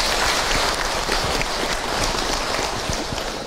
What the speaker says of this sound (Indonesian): Tepuk tangan buat Bunda semua